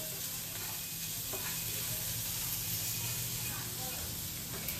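Green chili and ginger being stirred in a hot pan, giving a steady, even sizzle and hiss that runs throughout with faint scraping of the spatula underneath.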